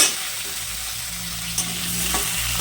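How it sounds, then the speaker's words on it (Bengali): Potatoes fry in a pan with a dense, close sizzle and a few light scrapes of stirring. There is no talking. "আলুটা ভেজে নেব"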